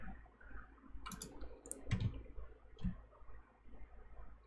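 A computer mouse clicks a few times, sharp and close but quiet, against a faint background hum with no speech.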